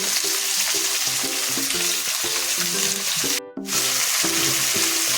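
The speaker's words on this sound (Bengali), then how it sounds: "আমি কিছু সময় আস্তে আস্তে এভাবে এটা কষিয়ে নেব।" A spice paste with salt and sugar frying in a pan, a steady hiss of sizzling oil running throughout with a brief sharp burst of spatter midway.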